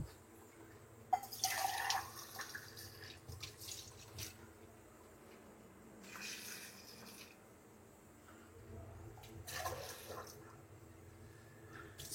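Water poured into a pot of Peshawari-style beef and potatoes, giving two soft splashing bursts of running liquid some seconds apart against quiet kitchen background.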